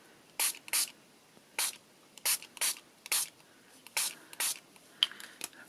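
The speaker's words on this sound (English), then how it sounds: "And I'm going to just give it a spritz." A spray bottle spritzes about a dozen short, sharp hissing bursts in an irregular rhythm, close and fairly quiet, some in quick pairs, with no talking.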